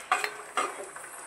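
A spoon stirs kalakand sweet mixture in a pan, making two short scraping strokes with light metallic clinks, close and fairly quiet.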